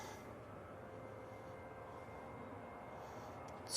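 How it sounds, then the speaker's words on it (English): A TUI Boeing 737-800 rolls down the runway on takeoff at Manchester Airport, a steady, even engine rumble heard from a distance that holds level throughout, with no voices over it. "Tui on the roll, using the 737-800"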